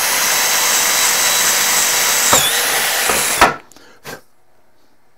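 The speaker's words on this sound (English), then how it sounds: "I'm going to put that drill bit right in the center there" A power drill bores a hole into the center of a vacuum needle assembly part, a loud, steady whine that cuts off sharply, followed by a couple of brief clunks and handling noises.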